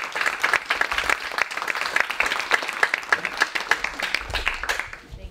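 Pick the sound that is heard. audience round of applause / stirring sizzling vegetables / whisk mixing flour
audience round of applause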